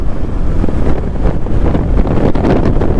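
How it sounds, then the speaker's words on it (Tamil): Strong wind roars and gusts against the microphone in an open area, a loud, continuous rushing blast with no voices. "இந்த ஓப்பன் ஏரியா போல் காற்று சும்மா விரின்னு பிரிச்சுக்கிட்டு இருக்கு."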